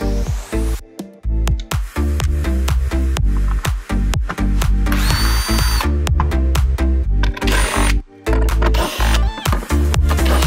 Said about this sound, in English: Then we'll take off all these 10 millimeter bolts